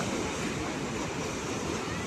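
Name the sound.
ocean waves at high tide on beach at night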